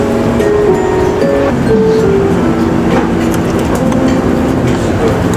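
Interior of a moving train in Japan, a loud continuous rumble of wheels and carriage with shifting tonal whines and squeals running through it, no voices.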